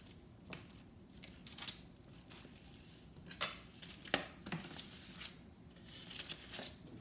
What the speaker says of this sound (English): Let me cut some more cake.